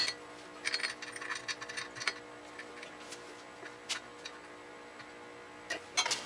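A bolt being threaded by hand into a CVTech clutch on a Can-Am BRP ATV, faint close metallic ticks and small clicks in irregular bursts, quiet throughout.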